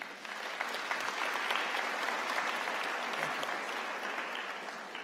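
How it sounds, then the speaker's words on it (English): Audience applause at a university graduate commencement, a broad sustained roll of many hands clapping in a large hall, steady and somewhat distant, swelling slightly then easing. "Give them a warm applause, please."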